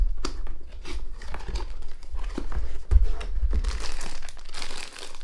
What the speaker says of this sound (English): let's get started and unbox it.